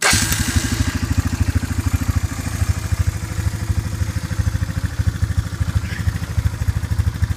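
A Honda Fourtrax 300 4x4 ATV engine fires up and settles into a steady, loud, close idle with a rapid thumping pulse and mechanical clatter, no voices.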